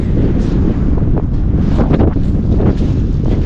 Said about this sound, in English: You probably can't hear me because of the wind. It's always windy up here.